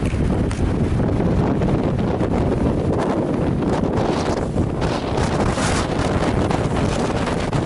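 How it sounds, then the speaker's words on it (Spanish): Strong Patagonian wind at Torres del Paine gusting at about 95 km/h, a loud, unbroken roar buffeting the microphone throughout with no voices. "Está muy fuerte el viento, 95 km por hora."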